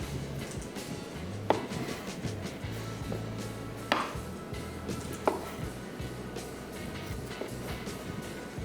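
A knife chops vegetables for dhaba karahi on a board, with sparse, irregular sharp cuts spaced a second or more apart over a low, steady background hum.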